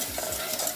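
Flour and fat roux for turkey gravy cooking at the blonde stage, a soft steady sizzle with stirring scrapes in the pan, close and even throughout.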